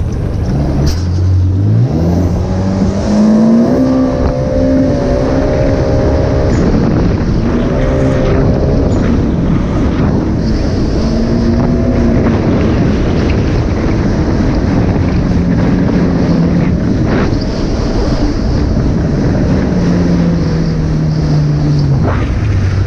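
A 2019 Yamaha GP1800R jet ski with a Riva Racing Stage 1 setup races across open water, its engine droning loudly and rising and falling in pitch, with heavy wind buffeting the microphone throughout.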